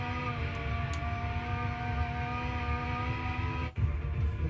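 Engine drone of F1 race cars in the video game F1 2014 during Bahrain GP qualifying, a steady high-pitched whine held throughout, with a brief dip near the end as one car passes by.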